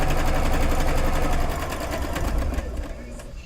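A sewing machine stitches quilt pieces with a steady, fast mechanical whir that runs continuously and close by, easing slightly in its last second.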